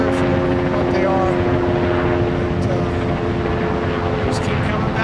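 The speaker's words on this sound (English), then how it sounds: "about 3 different helicopters that keep buzzing around here. Flying up and down the river." Several helicopters fly up and down the Skagit River during a flood, a steady loud rotor and engine drone that dominates throughout, with continuous outdoor noise and someone talking over it.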